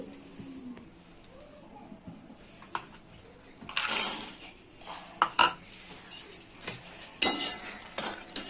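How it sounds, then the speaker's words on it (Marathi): Peanuts dry-roasting in a pan for sesame ladoos make sporadic light rattles and scraping clinks as they are stirred, with louder bursts now and then against a quiet background. "त्या शेंगदाण्यांना आपण आता भाजून घ्यायचं आहे"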